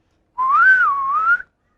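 A person whistling in imitation of a bird: one clear, sustained tone lasting about a second that rises, dips and rises again, close and loud against silence.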